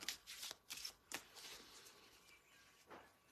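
A deck of inspiration cards is shuffled close up, a series of quick papery riffles and flicks followed by a quieter final shuffle, with no talk.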